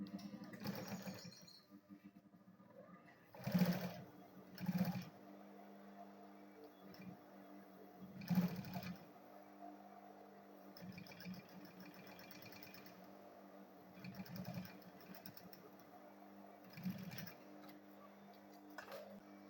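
Domestic sewing machine stitching a straight seam along the front panel of a fabric school bag, heard in short bursts of steady whirring with pauses between runs, fairly quiet and close.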